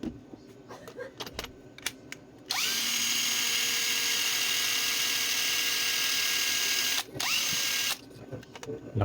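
A DeWalt cordless drill with a refitted battery whirs loud and steady for about five seconds, stops briefly, then spins again for a moment, with handling clatter before and after.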